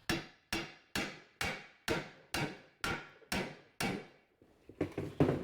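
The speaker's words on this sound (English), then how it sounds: "Another thing we want to do on this back side is tap these dowels in." A hammer tapping power steering pump dowels into a 2000-2005 Toyota Celica engine: nine crisp metallic strikes at an even pace, close and ringing, followed by a brief flurry of quicker, lighter taps.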